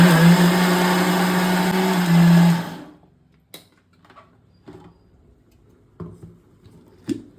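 A kitchen mixer grinder whirs loudly, grinding fenugreek dosa batter for about three seconds, then shuts off. A few scattered knocks and clatters follow in the quiet.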